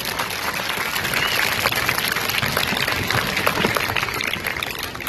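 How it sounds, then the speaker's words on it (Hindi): An audience gives loud, sustained applause for DCP Sandeep Lamba at a government school event in Seelampur, dense clapping that holds steady throughout. "एक बार जोरदार तालियां हो जाए इनके लिए।"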